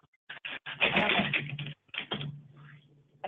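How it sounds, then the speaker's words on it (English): Quick clattering keystrokes in short bursts, close by, with a low steady hum underneath between taps. "we can hear you typing for Tina"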